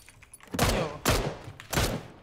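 Three loud, evenly spaced gunshots in the battle royale game PUBG, each a sharp close crack with a short decaying tail, about half a second apart.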